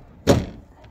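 A back door on a 2005 Ford Taurus with a 3.0 V6 shuts with a single sharp slam that decays quickly, followed by a faint click, close by with no talk over it.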